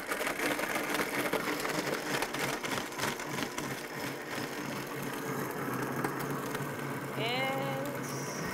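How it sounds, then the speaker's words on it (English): A blender whirs continuously as it purees a matcha latte smoothie with ice, a loud, gritty grinding roar that holds steady for several seconds, with brief tonal squeaks near the end. "I'm going to blend it up"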